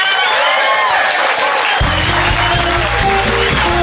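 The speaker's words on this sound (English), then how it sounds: "A big round of applause for Dean Delray" A live comedy show audience applauds and cheers for a comedian, a loud, dense, continuous roar of clapping and crowd noise, with band music joining partway through.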